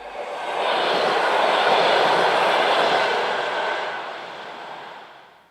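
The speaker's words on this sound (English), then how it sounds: "ALN 668-1119 leads a sister unit away from Ferrara on a working bound for Alessandria." Two coupled ALN 668 diesel railcars pull away from Ferrara at low speed, a steady broad engine and rail rumble holding loud for several seconds before easing off at the end.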